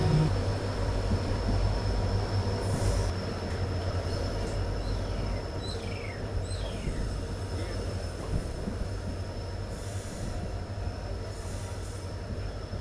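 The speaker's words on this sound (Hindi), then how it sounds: "और फाइनली पहुँच रहे हैं हरमुट्टी जंक्शन रेलवे स्टेशन" A train rolls into Harmutty Junction railway station with a steady heavy rumble of wheels on track, faint metallic squeals rising over it partway through, continuous and close with no talk.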